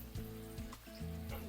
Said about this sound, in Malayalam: ഇതിൻ്റെ നീരൊക്കെ ഇറങ്ങിയിട്ട് ക്ഷമയോടുകൂടി വറുത്തെടുക്കുക